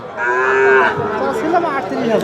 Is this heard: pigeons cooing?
no